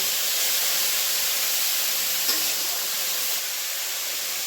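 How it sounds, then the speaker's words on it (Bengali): Radish greens tossed with onions fry in a pan, giving a continuous, even hiss of oil and steam at moderate loudness with no talking, dropping slightly toward the end. "শাকগুলো ঝরঝরা হয়ে ভাজা হয়ে গেছে"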